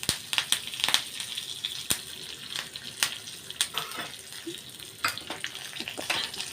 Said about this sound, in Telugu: ఇవి కొంచెం వేగిన తర్వాత కరివేపాకు, ఎండుమిర్చి వేసుకుందాం.